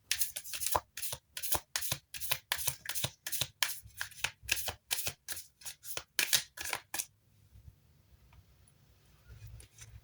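Tarot cards shuffled by hand in a quick, even rhythm of crisp riffling bursts for about seven seconds, close and clear, then stopping into near silence.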